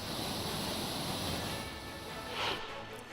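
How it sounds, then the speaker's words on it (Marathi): Water rushing from five dam gates opened by 40 centimetres, a broad steady roar with no break and a slight swell near the end, heard loud and close. "धरणाचे 5 दरवाजे 40 सेंटीमीटरनं उघडण्यात आलेले आहेत"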